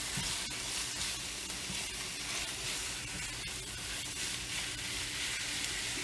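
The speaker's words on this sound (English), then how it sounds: "Oh, water's boiling." Water boils in a pot on a home kitchen stove, a dense, steady hiss and bubbling roar that fills the whole stretch evenly, close and continuous with no talk.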